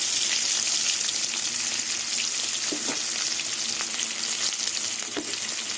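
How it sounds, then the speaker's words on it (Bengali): Katla fish frying in hot oil in a wok, a close, continuous sizzle with irregular pops and spits of oil, no voices present. "মাছগুলো লাল লাল করে ভেজে নেব"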